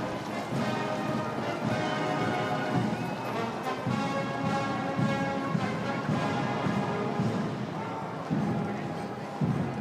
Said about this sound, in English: The iconic gold state coach departs as the procession back to the palace begins.